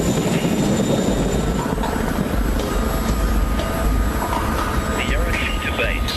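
A military helicopter drones steadily with a heavy, rumbling rotor throb that fills the whole clip, while voices talk over it.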